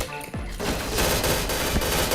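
Rapid automatic gunfire in the shooter game Point Blank, loud and dense bursts rattling continuously after a brief quieter lead-in, with in-game effects layered over the shots.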